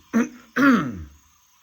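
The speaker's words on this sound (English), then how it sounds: "if I have to clear my throat a couple times during this video" Two quick, close throat-clearing grunts, the second longer and rougher, with quiet in between and after.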